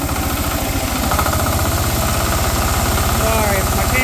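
An open-source DIY 10HP diesel engine driving a 5kW generator runs loud and overspeeding, with a dense, rapid, steady chugging that holds throughout.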